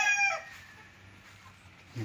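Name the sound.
chickens (bred rooster) crowing on a farm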